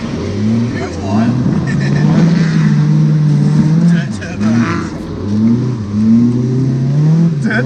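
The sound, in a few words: 4AGE drift car engine revving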